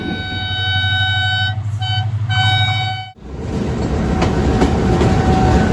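Ghouri Express passenger train running between Faisalabad and Lahore, a loud steady rumble of wheels on track with tonal whistle-like squeals in the first half, then a brief dip into a broader, rougher rolling roar.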